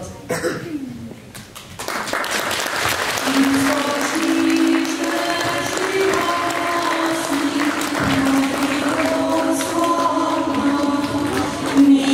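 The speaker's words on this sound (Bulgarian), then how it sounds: "Аплодисменти за тези прекрасни деца" An audience breaks into sustained applause for children after a performance at a traditional Christmas celebration, dense clapping that rolls on steadily for several seconds with a few scattered coughs.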